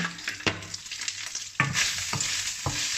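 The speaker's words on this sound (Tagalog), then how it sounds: "pag lumabas na yung mantika, ayan ang ating panggisa" Pork sizzles steadily as it fries in its own rendered fat for pinakbet, with several sharp, close clacks of a spatula stirring through it.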